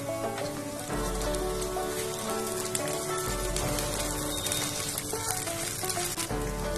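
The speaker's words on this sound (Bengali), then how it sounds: "এখন এর মধ্যে অ্যাড করব 1 চামচ আদা রসুনের পেস্ট" Ginger garlic paste frying with golden-browned onions in a pan, producing a dense, loud, rain-like sizzle that runs steadily throughout, with no speech over it.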